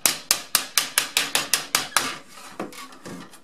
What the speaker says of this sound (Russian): Бьешь молотком, сильно приплюсковать можно, но не обязательно.